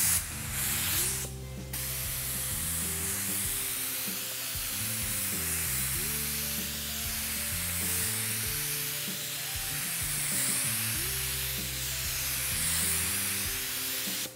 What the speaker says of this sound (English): So let's go ahead and spray the non-skid on.